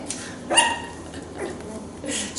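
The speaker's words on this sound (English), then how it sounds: "Did you hear Ash barking at it?" A four-week-old toy Aussiedoodle puppy gives a few short, faint yips and barks at crinkled packing paper, spaced out across a quiet indoor space.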